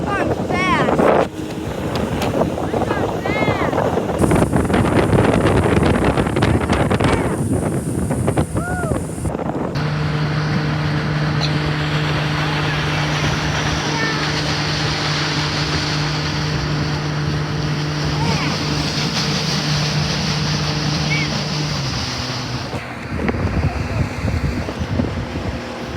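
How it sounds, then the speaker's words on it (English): Motorboat speeding across a lake, with a steady engine drone and rushing wind buffeting the microphone throughout, water hiss beneath, and voices chatting over the ride. "we are in the boat in the middle of the ocean, and we're going fast."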